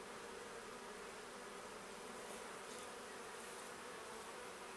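Honeybees buzz inside an opened hive during a spring inspection, a dense steady hum that stays faint and even throughout, with no voices.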